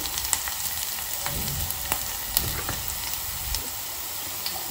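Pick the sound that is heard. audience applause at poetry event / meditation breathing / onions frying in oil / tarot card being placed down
onions frying in oil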